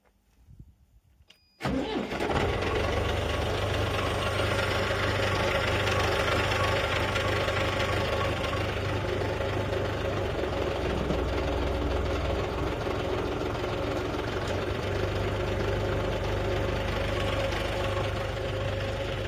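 An MTZ-82.1 tractor engine cranks and catches after a short quiet start, then settles into a loud, steady diesel idle with a constant knocking rumble that runs to the end.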